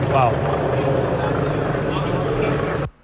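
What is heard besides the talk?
helicopter flying overhead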